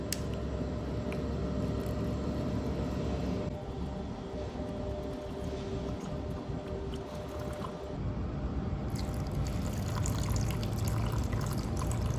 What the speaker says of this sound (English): We're gonna put them, both of them, to the test at the same time with the 500 milliliter water bottle